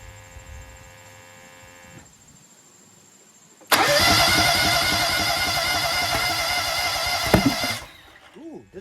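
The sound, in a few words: Kohler EFI engine cranking and starting on Toro Z-Master mower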